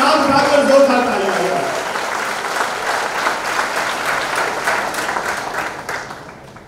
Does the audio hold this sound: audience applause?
yes